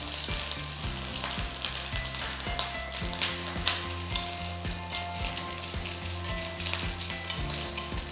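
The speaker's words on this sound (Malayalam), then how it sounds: "എണ്ണ നന്നായിട്ട് ചൂടാകുമ്പോൾ കടുക് 1 ടീസ്പൂൺ കടുക് ഇടാം" Mustard seeds and grated coconut fry in hot oil in a pan, giving a continuous crackling sizzle with scattered sharp pops and occasional stirring scrapes, steady and close.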